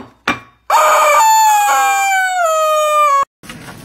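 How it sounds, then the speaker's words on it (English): A rooster crows loudly and up close in one long drawn-out call, preceded by a sharp short squawk and followed by a brief cluck. "Here's your chicken."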